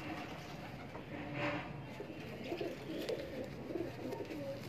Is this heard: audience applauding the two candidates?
no